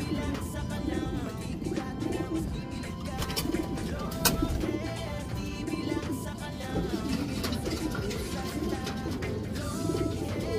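Racing pigeons coo steadily in a dense, continuous chorus of overlapping low calls at close range, with no talk.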